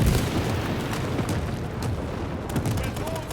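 A muffled grenade explosion booms in the shooter game World War 3 amid continuous low rumbling and gunfire-like bursts, with a voice talking over the noisy battle.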